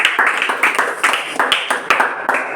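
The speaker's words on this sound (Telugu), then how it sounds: "క్లాప్స్ కొట్టండి" A small group of children in a maths class clapping together in rhythmic bursts, close and fairly loud, the claps falling into a steady repeating pattern.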